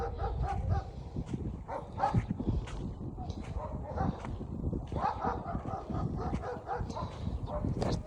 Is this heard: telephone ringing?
no